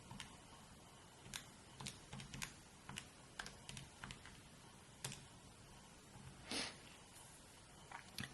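Keys pressed on a BA II Plus financial calculator: sparse, faint, close plastic clicks spaced irregularly over several seconds in a quiet room, with no talking.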